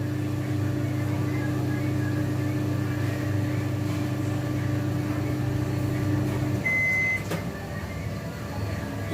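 A Samsung microwave oven melting butter gives a steady, droning hum that cuts off partway through, followed by a short electronic beep and quieter room tone.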